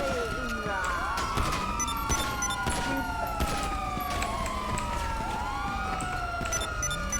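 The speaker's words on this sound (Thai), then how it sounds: "รถตำรวจ" Police car siren inside the GTA video game, several overlapping wailing sweeps rising and falling continuously and loudly, with a person talking over them.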